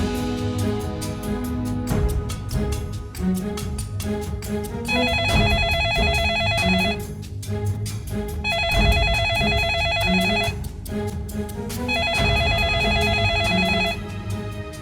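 A telephone bell rings in repeated bursts, three clear ringing spells separated by short pauses, over background music.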